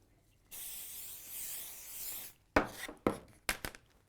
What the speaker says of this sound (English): grippy spray is going to be the one that you use there